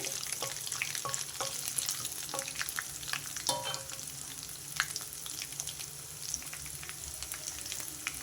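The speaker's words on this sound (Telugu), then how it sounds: "ఇప్పుడు ముందుగా కొంచెం దంచి పెట్టుకున్న వెల్లుల్లిపాయలు ఇవి కూడా కొంచెం వేగాలి" Crushed garlic fries in oil in a pan, giving a steady soft sizzle broken by sharp crackles and pops, with occasional scrapes as it is stirred; no voices.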